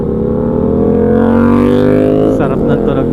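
A Venturi 500 motorcycle's exhaust drones steadily up close, a deep throbbing engine tone that shifts briefly near the end, with voices talking over it.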